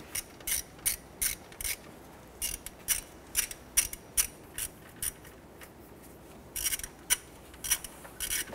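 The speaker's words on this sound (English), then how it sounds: "Just gonna go ahead and snug these bolts down." A hand ratchet snugs bolts down on a crankshaft position sensor of a 1993-1997 Ford Ranger, giving repeated short clicking bursts in a steady rhythm, close and clear with no talk.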